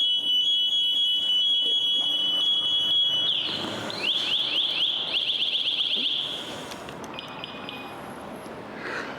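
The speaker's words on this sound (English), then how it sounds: "That's called our man down alarm." A firefighter's man down alarm on breathing gear sounds close and loud, first as a steady high beeping tone, then as rapid chirping bursts before fading, while low background noise continues.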